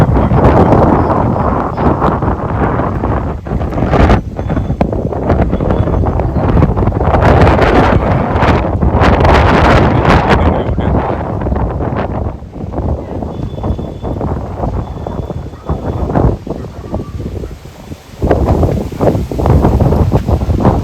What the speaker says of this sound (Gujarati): પવન ખૂબ વધવા લાગ્યો છે હવે.